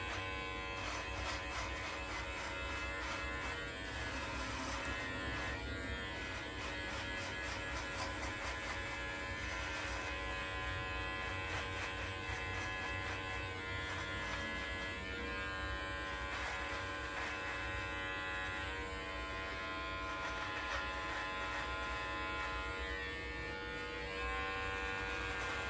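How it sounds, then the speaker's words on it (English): An electric razor shaves hair with a steady, close, continuous buzz and hum that shifts slightly in pitch as it moves, running alone without speech. "I'll shave it off."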